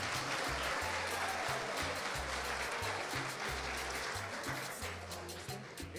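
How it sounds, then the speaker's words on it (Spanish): Audience applause at a Christmas carol contest awards event, sustained clapping from a crowd that fills the whole stretch and fades slightly toward the end. "un fuerte aplauso para don Orlando"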